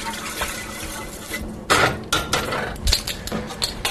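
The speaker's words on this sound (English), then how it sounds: "I'm going to stir that up to try and blend the vegetable stock before we start cooking" Rice and vegetable stock are stirred in a pot for boiled rice, with a spoon scraping and clinking against the pot in uneven strokes, close up and without talk.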